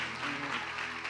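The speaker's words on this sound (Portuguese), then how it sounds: "Então aplauda com amor" A church congregation at a worship service applauding, a soft, dense patter of many hands heard from a distance with a faint tonal hum underneath.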